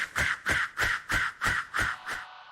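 A crow-like bird caws seven times in a steady, evenly spaced rhythm, each harsh call fairly close and clear, fading slightly on the last.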